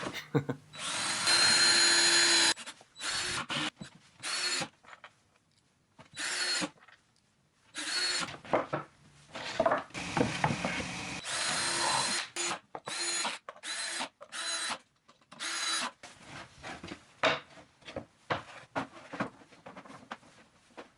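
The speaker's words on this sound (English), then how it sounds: "I'll screw it in from the side" A power drill drives screws into a wooden light table box in a series of loud, close whirring bursts of varying length, separated by short pauses and clicks.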